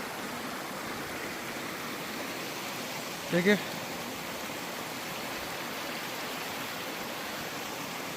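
Mountain stream water flowing steadily near the Tata Pani hot spring in Marwan Valley, Jammu and Kashmir, a broad, even rush with a brief voice speaking midway.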